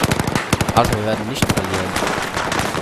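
Bursts of automatic gunfire in the Battlefield 4 multiplayer Rush mode on the Paracel map, rapid shots close by, with someone talking over them throughout.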